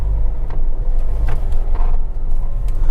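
A Kia Seltos diesel SUV with a six-speed manual gearbox drives along, its engine giving a steady low rumble under continuous road noise, with a few faint higher whooshes passing through.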